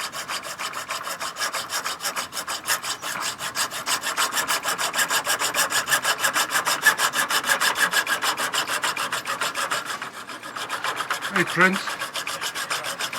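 A hacksaw cuts through cabinet legs aboard a narrowboat being converted, giving a steady, fast, close rasping stroke rhythm that continues almost throughout, with a brief pause and a short spoken greeting near the end.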